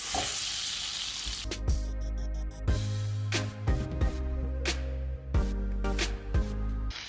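Garlic sautéing in a pan for garlic shrimp, sizzling steadily throughout, interrupted by repeated clanks and scrapes of a utensil stirring against the pan.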